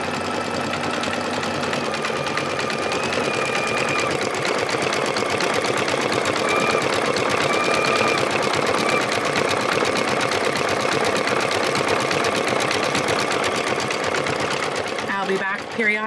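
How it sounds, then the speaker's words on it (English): A computerized embroidery machine runs steadily, stitching out an 18th century style pocket with a dense, continuous rapid needle chatter and motor whir that holds loud and close throughout before briefly stuttering at the end. "Keep your fingers crossed that this machine plays nicely."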